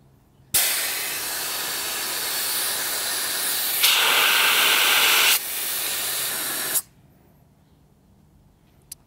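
Compressed air hisses loudly out of an opened valve while deflating tires through a DIY four-way inflation and deflation system, a steady rush lasting about six seconds that brightens briefly in the middle before cutting off abruptly.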